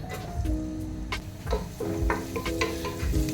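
Two tablespoons of finely chopped garlic frying in hot oil while fried rice is made, with a steady sizzle under repeated stirring and light scraping clicks.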